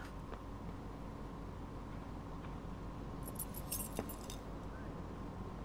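Keys tossed aside in the Life is Strange video game, a brief metallic jingle of clinking keys around the middle, heard faintly over a steady low game ambience with no talking.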